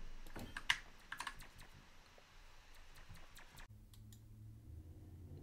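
Typing on a Redragon Fizz K617 60% RGB magnetic-switch gaming keyboard, with quiet, irregular key clicks close up that stop abruptly, leaving a faint low hum.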